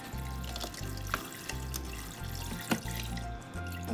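Water runs from the shower tap of a toy baby doll bath in a close, steady trickle and splash, with faint pulsing undertones, and no one speaks over it.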